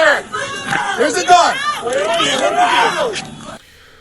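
An agitated crowd at a police shooting scene in Milwaukee, with many overlapping voices shouting and calling out at once, close and loud, before it suddenly drops off near the end.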